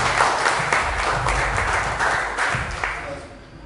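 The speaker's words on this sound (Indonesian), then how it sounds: "mari sekali lagi kita tepuk tangan untuk Tuhan dengan meriah" Lively congregational hand clapping in an Indonesian church service, many hands with some distinct sharp claps over a dense wash, strong at first and tapering off, with voices mixed underneath.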